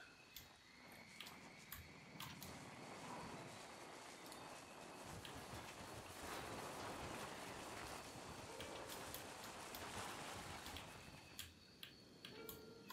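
Steady rain hisses in the video game Kenshi, a faint, even wash of patter with light ticking sounds scattered through it, with no voices.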